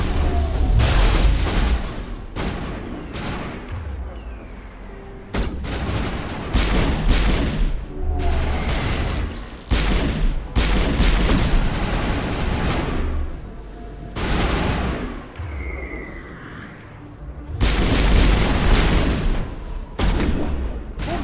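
Mass Effect combat with dense bursts of shotgun fire and heavy explosions, loud and close, coming in rapid clusters separated by short lulls throughout.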